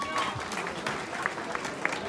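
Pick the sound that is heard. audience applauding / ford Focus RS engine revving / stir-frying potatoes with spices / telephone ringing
audience applauding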